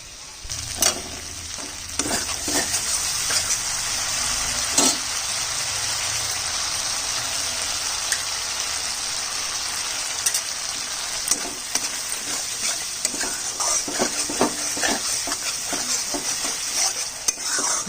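Whisked sour yogurt going into a fish curry in a pan: a steady, close frying sizzle runs throughout, broken by scattered clinks and scrapes of stirring, with no talking.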